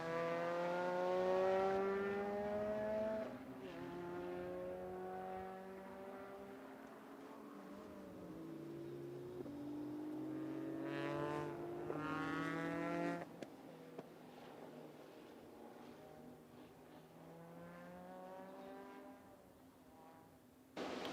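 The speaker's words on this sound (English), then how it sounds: "David Nicholas bringing the thundering GTP car back down pit side right now" A thundering GTP sports race car at a speed festival screams around the racetrack, its engine rising and falling through repeated gear changes as it passes, loud and close, with no talking.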